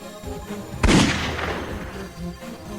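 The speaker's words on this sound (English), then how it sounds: "Now let's shoot him in the eye and see if he plays a different animation." A single loud gunshot at a monster in the Roblox horror game Piggy, a sharp near crack followed by a decaying boom, with quieter game ambience before and after.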